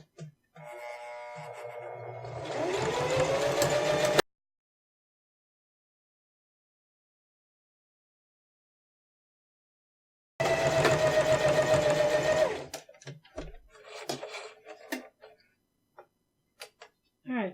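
A sewing machine stitches a straight seam along fabric for a backpack. It runs in two close, steady whirring bursts separated by a long silence, and a few soft handling clicks follow.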